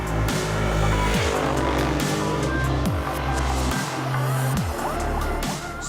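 A Ducati Monster 821 motorcycle is ridden on the road, its engine and exhaust growling loudly and up close, with the revs rising and falling through repeated gear changes.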